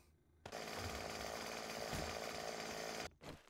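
A chainsaw in the video game 7 Days to Die starts abruptly and runs at a steady, loud, buzzing drone for about two and a half seconds before cutting off, with a brief sputter after.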